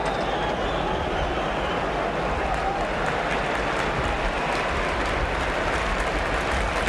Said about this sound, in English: getting a round of applause as he does so